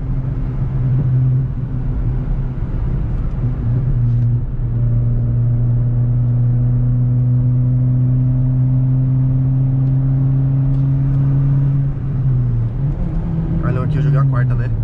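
A Renault Sandero RS pulling hard in fourth gear, a loud in-cabin engine drone rising slowly in pitch across the run, then easing and shifting near the end, with people talking over it throughout.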